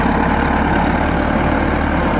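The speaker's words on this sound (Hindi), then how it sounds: "ट्रैक्टर इस वक्त दोस्तों चौथे लो में चल रहा है" A Massey Ferguson 385 tractor runs in fourth low gear while pulling a 13-tine plow under heavy load, and its engine gives a loud, close, unbroken low drone.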